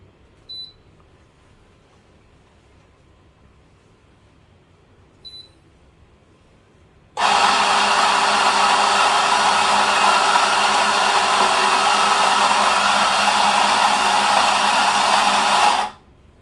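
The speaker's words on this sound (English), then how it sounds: "So let's grind the coffee." A Eureka RF64W coffee grinder grinding coffee beans, starting after a quiet stretch with a couple of tiny clicks, then a loud steady high whine for about nine seconds before cutting off.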